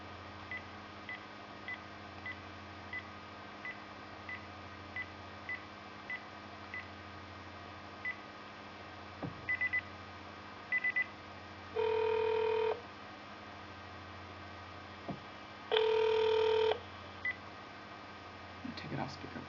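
A telephone call being placed: a run of short keypad tones ticks out evenly, then two longer ringback tones sound, with faint background hum throughout.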